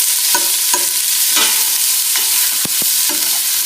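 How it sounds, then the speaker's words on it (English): Lardons of smoked pork and onions sizzle loudly in a pan for beef bourguignon while a utensil stirs them, steady frying hiss with a few distinct scraping knocks, close and without talk. "I'm going to stir this for a while, so you might want to stir that until the onions and bacon are soft."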